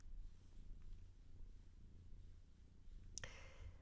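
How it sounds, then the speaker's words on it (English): A cat purrs close up, a soft steady rumbling rhythm, with a brief sharp click near the end. "Can you hear our purring?"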